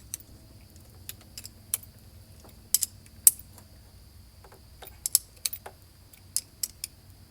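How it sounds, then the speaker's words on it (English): A wrench tightening the terminal nuts on a car battery's cable clamps, heard as scattered sharp metallic clicks and ratcheting taps, close and fairly quiet, with short pauses between bursts. "we'll go ahead and grab our wrench, tighten them the rest of the way down"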